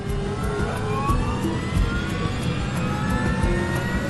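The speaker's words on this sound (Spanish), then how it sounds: "Grabó el sonido de los motores desde dentro de la cabina." From inside the cockpit, aircraft engines spool up steadily, a rising whine over a dense low rumble with no talking.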